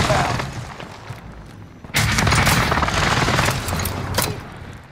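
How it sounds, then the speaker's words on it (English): Video game gunfire and airstrike explosions, a dense barrage of shots and booms that swells suddenly into a sustained loud roar of impacts after a quieter opening, with voices faintly mixed in. "Target marked. Commence airstrike."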